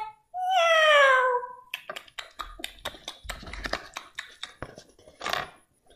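A cat gives one long, rising meow close by, then a run of light taps and small clicks follows, with one faint softer meow near the end.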